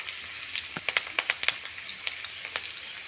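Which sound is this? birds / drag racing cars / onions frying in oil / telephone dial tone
onions frying in oil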